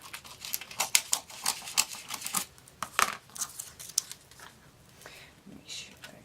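Scissors snip and paper rustles as excess material is trimmed from a mini album cover, in a string of close, sharp cuts and crinkles of varying loudness.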